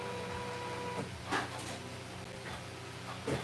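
An embroidery machine stitches the outline of a felt food piece, giving a steady mechanical whir with soft, regular ticking and a few louder clicks, all close by.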